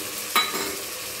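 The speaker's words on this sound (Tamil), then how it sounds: "சிக்கன் நல்லா வதங்கிடுச்சு." Steady sizzling of chicken frying in a hot pan for a Chettinad-style gravy, with one brief scrape of stirring partway through.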